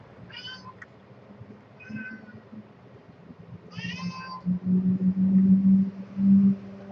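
A house cat meows three times in short, plaintive calls, nearby and fairly quiet, while a low steady hum rises underneath toward the end.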